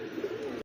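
A pigeon at a bird market coos close by in a soft, continuous low warble that wavers in pitch for most of a second before cutting off abruptly.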